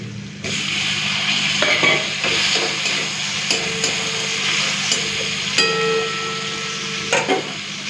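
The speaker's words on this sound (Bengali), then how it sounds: "ভালো করে ভেজে নিয়েছি আদা রসুন পেঁয়াজ, এরপরে কেটে রাখা টমেটোটা দিয়ে দিচ্ছি।" Chopped tomato tipped into a pan of frying ginger, garlic and onion, a steady close sizzle with occasional scraping stirs and light clinks of a spatula on the metal, no voices.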